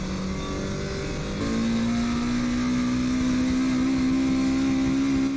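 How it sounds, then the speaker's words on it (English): An old-school AE86 drift car engine revs hard and steadily at Ebisu, its pitch climbing and holding high, loud and close with no voices. "it's Noriaro driving an old school A86 at Ebisu during the Spring Matsuri"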